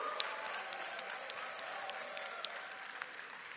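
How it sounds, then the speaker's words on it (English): Audience applause at a smartphone launch event in Bali, a steady dense wash of clapping with scattered louder claps and an occasional whoop, sustained for the whole stretch. "give a huge round of applause to our amazing behind-the-scenes team"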